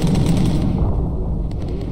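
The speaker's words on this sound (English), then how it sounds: "Good shooting, guys." Bomber turret guns firing in Bomber Crew during a high-altitude mission against enemy fighters: rapid, continuous machine-gun chatter over a steady low engine drone, loud and close, tapering slightly near the end.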